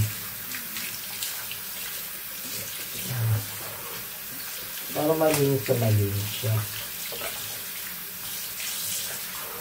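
Cold water runs from a tap at a steady hiss while someone washes, with a few splashes and a brief spoken remark partway through.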